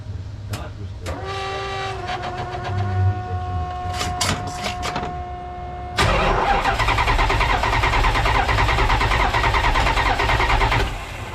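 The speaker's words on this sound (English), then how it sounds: "put it in neutral and just let it idle. Get it warm." A 1972 Dodge Dart engine cranks and catches partway through, then settles into a loud, steady idle close by, with clanks and other shop noises before it starts.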